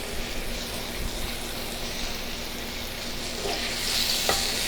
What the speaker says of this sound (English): work on high heat the entire time. Start frying constantly.